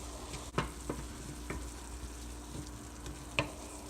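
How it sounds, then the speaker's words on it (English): Himalayan pink salt gets a quick stir in a hot pan of plantain filling: a few scraping spoon strokes over a steady low sizzle, close and moderately quiet, with no talking. "A spoon of the Himalayan pink salt. We're going to give that a quick stir."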